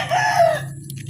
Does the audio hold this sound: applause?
no